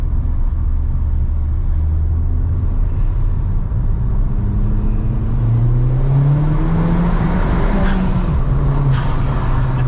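Steady engine drone inside a hybrid-turbo Ford Fiesta ST on a country lane, then a rising rev that swells louder and fades back, with road rumble throughout and a brief hiss near the end.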